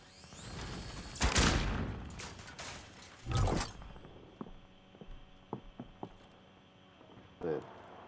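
A frag grenade is thrown and detonates in Call of Duty: Modern Warfare, with two heavy blasts early on followed by scattered clicks, footsteps and light gunfire, with voice chat heard faintly under the game sounds.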